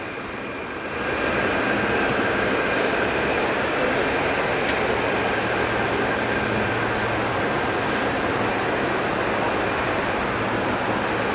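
Kolkata metro train at Kalighat station, a loud, sustained rumbling roar that swells in after a moment and holds steady, with faint squeals and clanks over it.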